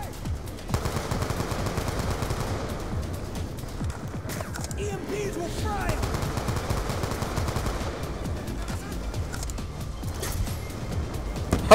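Turret gunfire in Call of Duty Black Ops 2 rattles in rapid, sustained automatic bursts through most of the stretch, moderately loud and layered with game noise.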